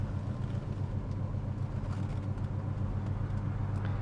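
A 1970 Chevrolet Chevelle SS 454 engine drones steadily while the car is driven, a low, even rumble heard from inside the cabin with no talking.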